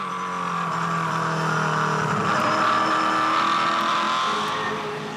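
A 2006 Supercars race car at Oran Park roars from onboard with Max Wilson, its engine holding a loud, steady high-revving note with slight rises and falls as it races, no voices over it.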